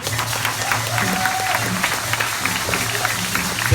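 An audience of moderate size claps and cheers for sports legends at a launch event for sports in Ghana. The applause stays steady and even through this short stretch.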